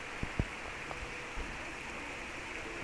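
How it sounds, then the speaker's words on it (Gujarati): Rain falls outdoors as a steady, faint hiss, broken by a few soft low thumps. "જો કેવો મજાનો વરસાદ છે."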